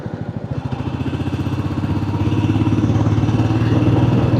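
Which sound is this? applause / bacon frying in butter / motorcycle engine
motorcycle engine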